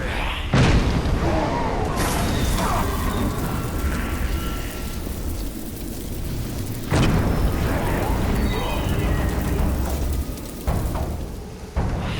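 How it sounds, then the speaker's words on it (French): Barrel explosions in the Shadow of Mordor video game, heard as loud booming blasts, one near the start and another around the middle, followed by rumbling debris and roaring game noise throughout. "Tuer les orques avec des explosions de fût."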